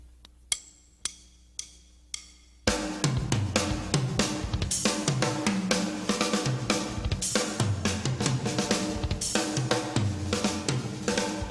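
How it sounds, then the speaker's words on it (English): A few metronome clicks lead into a loud, busy drum solo with fast double bass drum thuds churning beneath snare and tom hits. "what I've done in this solo is kind of use the bass drums"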